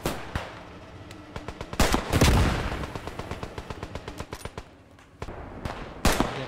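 Machine gun fire in the World War II shooter Squad 44 rattles out in rapid bursts, loud and close, with heavier booming shots mixed in and short pauses between volleys.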